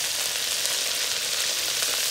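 Lentils roast in a pan with a dense, even sizzling crackle, close and constant throughout.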